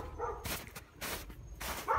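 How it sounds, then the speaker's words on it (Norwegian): A dog barks outdoors in a winter garden where a tree has just been trimmed: three loud, sharp barks at uneven intervals, with short quiet gaps between them. "Faen ta hunden,"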